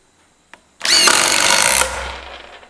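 A DeWalt DCF840 impact driver drives new screws in a loud, close burst of rapid hammering that lasts about a second before stopping, with a short click just before it starts.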